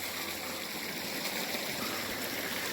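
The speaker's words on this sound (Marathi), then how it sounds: "हे बघा, हे पाणी बघा कसं जातं." Water flows through irrigation channels in an areca nut garden in Dabhol, Konkan, making a steady, close, rushing stream with no talk.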